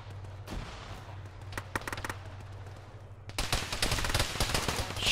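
Scattered gunfire from a military video game with a .50 caliber machine gun, mid-distance cracks at first, then a denser, louder stretch of rapid shots toward the end over steady background hum.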